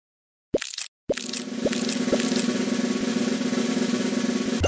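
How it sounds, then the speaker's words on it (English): An egg cracking in a children's counting video game, a soft plop followed by short cartoonish pops over a steady background music bed. "Crack the egg."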